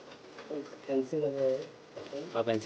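A Shirazi pigeon chick coos in a few soft, stacked calls close by, with a short pause between the bursts and low talk underneath.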